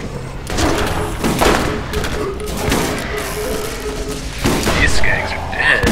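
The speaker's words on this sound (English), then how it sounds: "Ooh, grenade." Video game combat brings a grenade blast and bursts of gunfire, muffled booms and rapid thumping shots mixed with game effects, while players talk and exclaim over the action.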